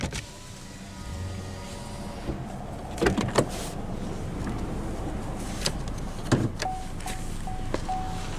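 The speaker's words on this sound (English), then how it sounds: "now we'll roll down the driver's window" The driver's electric window motor of a 2018 Chevrolet Spark 1LT whirs steadily as the glass rolls down, with a few clicks and soft thuds along the way and no talking.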